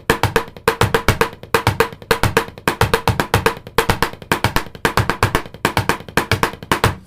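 A drum kit plays a stop-start, DJ-style loop pattern, dense bright strokes over kick thuds in a steady driving groove with brief gaps like a triggered loop.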